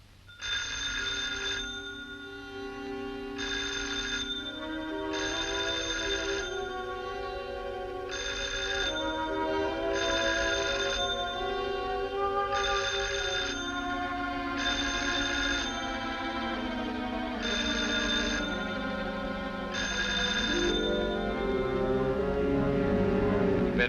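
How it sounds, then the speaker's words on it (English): A telephone bell rings in a repeating pattern of regular bursts, heard over a steady orchestral music score that swells throughout. "I can hear it ringing."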